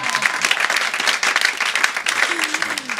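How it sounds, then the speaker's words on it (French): Audience applause at a gospel praise event welcoming a guest consultant, dense steady clapping throughout with voices and a brief vocal tone rising beneath it. "On peut applaudir notre consultant."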